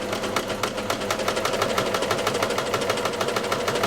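A Celine cover stitch sewing machine running over fabric under its needles, a fast, steady mechanical chatter of rapid rhythmic stitching, close and continuous throughout.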